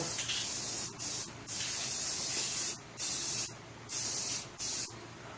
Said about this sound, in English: And we're using Rust-Oleum primer.